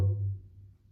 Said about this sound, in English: this is going to be hit on the side of the drum